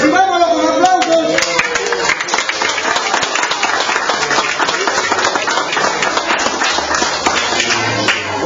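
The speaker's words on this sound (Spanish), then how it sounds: "recibámoslo con aplausos" Audience applause greeting a regional commissioner arriving at a gift-giving event in Piura, a sustained crowd clapping over several seconds with voices mixed in beneath.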